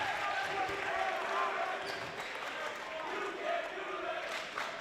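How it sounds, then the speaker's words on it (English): Crowd noise fills a high school basketball gym during a Milford Scarlet Hawks home game against Canton, a steady, dense roar of massed voices chanting with sustained energy; commentators talk over it. "And the "you can't do that" chant now coming from the crowd."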